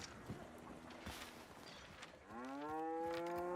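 Cows in a video game moo, a long, low, tonal call that swells in near the end after quieter scattered clicks and rustles, with no talking.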